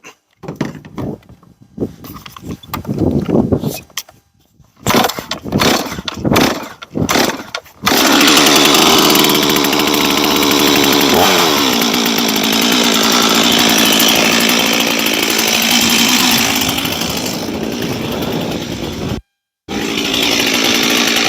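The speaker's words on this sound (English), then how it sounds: "So I'm going to go ahead and get this guy started up. We'll let it warm up." A Stihl 400 C chainsaw is pulled and sputters in short bursts, then catches and idles loudly and steadily, close by, warming up in the open with a brief cut-out near the end.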